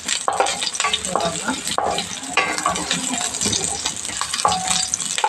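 Pumpkin pieces sautéing in mustard oil sizzle loudly and close up, with frequent scraping and clinking stirs of a spoon against the pan throughout.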